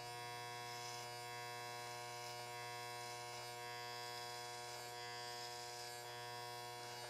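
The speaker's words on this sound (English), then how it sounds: "So now open the clipper blade back up and do it again." Electric hair clippers buzz steadily and close up while cutting curly hair into a high fade, a constant even hum with no pauses or talk.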